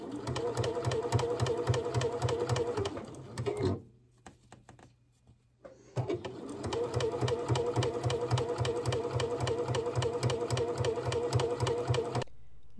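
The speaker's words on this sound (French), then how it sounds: "Nous allons venir piquer ce biais à 1 mm du bord." A sewing machine stitches bias binding along the edge of a tote bag, a steady rapid mechanical whir running close and loud, pausing briefly in the middle before the stitching resumes and continues to the end.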